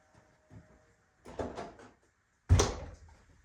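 Door of a 1996 two-door Jeep Cherokee, a few soft handling clunks followed by one loud, solid slam, close by with no talking.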